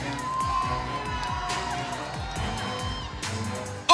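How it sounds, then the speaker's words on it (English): A dense, sustained roar of cheering and whooping from a large audience at the Mrs Earth 2015 beauty pageant, loud and continuous throughout, with a fresh surge of shouts near the end. "A huge reaction from the crowd there."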